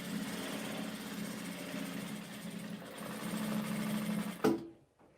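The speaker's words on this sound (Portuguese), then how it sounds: "vou fazer o quilt e vamos ver. Então, a minha máquina tá agora regulada." A domestic sewing machine with freshly adjusted thread tension quilts with a steady, humming buzz of rapid stitching that runs for several seconds, then stops abruptly with a clunk.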